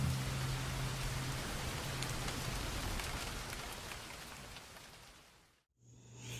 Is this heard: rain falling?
yes